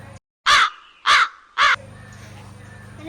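Three loud, harsh crow caws in a steady sequence, close by, followed by a low background hum.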